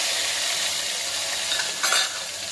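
Chopped tomatoes and chili pieces frying in oil for a tempered khichdi, a steady close sizzle with a brief stir near the end.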